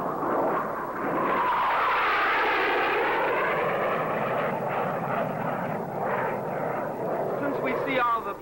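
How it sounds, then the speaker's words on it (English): Military planes fly overhead with a loud, broad roaring drone that swells and holds steadily for several seconds, nearby and overpowering, with faint voices beneath. "We see all the planes going over"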